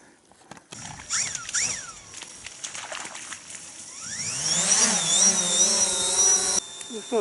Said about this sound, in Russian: сначала квадрокоптер запустим